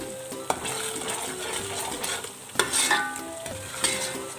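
A spoon stirs flour in ghee in a pan while homemade desi ghee is being made, over a soft continuous sizzle. A few distinct scraping knocks of the spoon against the pan ring out, and no one speaks.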